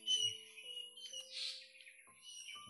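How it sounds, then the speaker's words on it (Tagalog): Several birds chirp and tweet in short high bursts around a quiet outdoor spot, fairly faint, with a few squawky calls and no talking. "Karaming ibon ito."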